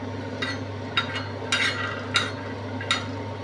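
Peanuts dry-roast in a pan over a low flame: a steady low hum with five or six sharp scraping strokes of a spatula stirring them, spaced about half a second apart and close by, with no talk.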